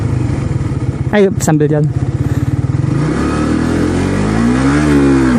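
Suzuki motorcycle engine revving hard for a wheelie attempt, a sharp rising rev burst followed by a steady climbing drone as the bike pulls away, with someone talking over it.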